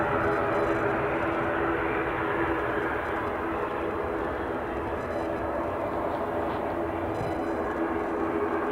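A Ryanair airliner rolls in at Edinburgh Airport, its engines giving a steady, fairly loud broadband roar that holds without a break.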